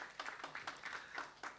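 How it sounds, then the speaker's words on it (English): Short burst of audience clapping at a tech fest event for MBOT members, a few distinct near claps in uneven rhythm over a faint room background. "One more applause to our MBOT members."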